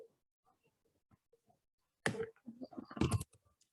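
Computer keyboard keys are typed to enter a command: a few faint scattered taps, then two dense bursts of louder clicking nearby.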